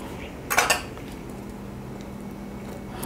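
A bowl being picked up for cooking sago vada gives a short cluster of clinks and clatters from kitchenware, then a quiet room hum.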